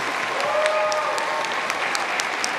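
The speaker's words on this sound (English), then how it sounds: "Let's give them all a round of applause." Audience applause at a middle school band concert, a loud, dense, continuous clapping from a full crowd that holds evenly throughout.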